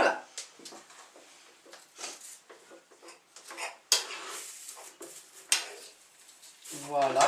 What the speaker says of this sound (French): je n'hésite pas à bien mélanger le tout, le beurre, les oignons, le sel et le poivre